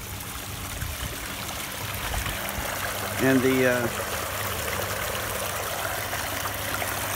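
A backyard pool filter runs with water flowing, making a steady, moderately loud trickling wash throughout while a person talks over it.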